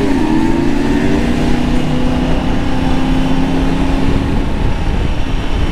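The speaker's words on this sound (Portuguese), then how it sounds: "Nossa, a MT tá chorando na mão dele" Yamaha MT motorcycle engine revving hard on a night ride, a loud, close whine with rising and falling tones over steady wind and road roar.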